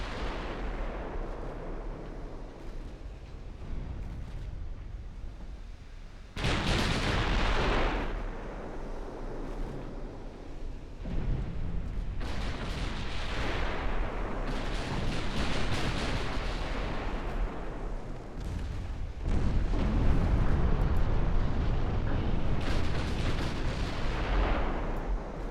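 Secondary guns on warships firing in a 1910-era naval battle game, a continuous rumbling barrage of heavy booms and bursts that swell and overlap for a long stretch, loud and close with no pauses.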